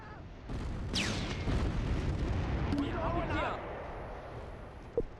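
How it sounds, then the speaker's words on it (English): Artillery fire in the Close Combat III video game: a broad, rumbling blast sustained for several seconds under a voice, with whistling and crackling sounds layered on top and a sharp pop near the end. "Artillery."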